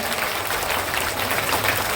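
Guests are welcomed at a primary school event in Deduva with a burst of steady, dense crowd clapping from many hands, loud and continuous with no speech over it.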